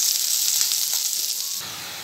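Mixed vegetables frying in oil for Bengali chorchori, tempered with panch phoron: a loud, steady close-up sizzle and hiss throughout, easing slightly near the end, with no talking.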